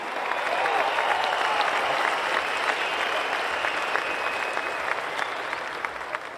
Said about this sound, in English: could we please have a round of applause for these two world-class fighters?